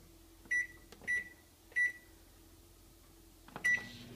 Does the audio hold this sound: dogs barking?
no